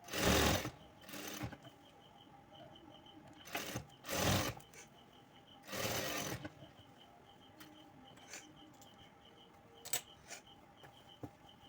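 A sewing machine stitching a 40-inch blouse runs in several short bursts of rapid whirring, separated by quieter stretches with faint mechanical ticks, close by and fairly soft.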